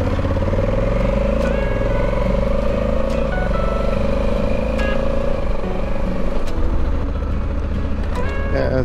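Honda Africa Twin motorcycle riding, its engine droning steadily with a sustained tone and rushing road and wind noise, close and continuous throughout.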